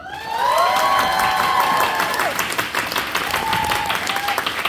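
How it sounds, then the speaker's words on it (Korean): A theater audience at a musical curtain call bursts into loud applause and cheering, a dense wash of clapping with shouts and whoops rising over it. "그동안 수고해주신 이세준 배우님께 큰 함성과 큰 박수!"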